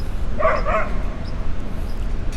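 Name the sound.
dogs barking in a park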